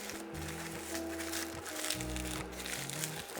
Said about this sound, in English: We stack them up, fold them a bit.